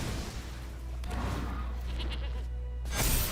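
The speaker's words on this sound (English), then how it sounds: "Oh, it sounds like a goat?" Goat bleat from a creature card in MTG Arena: a single wavering bleat over low rumbling game ambience, ending with a brief louder burst.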